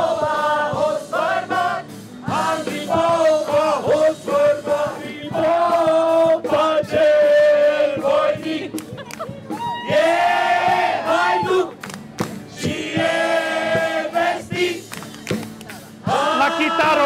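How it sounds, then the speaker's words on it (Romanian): A crowd at a rock concert sings along loudly in bursts of chanted melody, many voices together with short pauses between phrases. "să cânte și publicul!"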